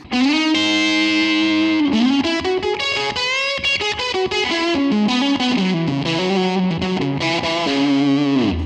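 A distorted electric guitar through a Line 6 Helix plays a sustained melodic line, thick and saturated, with a washy, spacious reverb tail blending the notes together.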